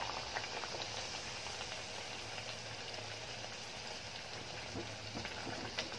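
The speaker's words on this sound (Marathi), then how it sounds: "जेव्हा तुम्ही वडे तेलामध्ये सोडता तेव्हा सांभाळून टाकायचे, कारण का तेल एकदम गरम झालेलं असतं" Chicken vada, a Maharashtrian fried bread, bubbling in very hot oil, with a steady, soft crackling sizzle throughout and no talking over it.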